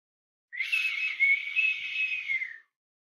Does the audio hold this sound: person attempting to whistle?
yes